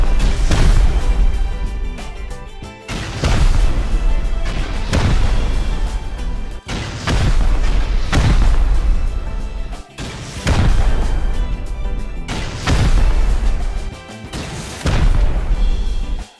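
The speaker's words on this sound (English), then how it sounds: "Okay, we rocket down 4 rockets here." Rocket explosions in the video game Rust go off one after another, four or five loud, heavy booms spaced a few seconds apart, each followed by a rumbling decay, with no talking.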